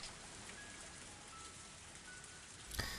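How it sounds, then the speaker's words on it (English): Rain falling in the Higurashi no Naku Koro ni game, a faint steady hiss of drops from start to end, with a brief louder splash just before it stops and no voices. "As the rain came down on me"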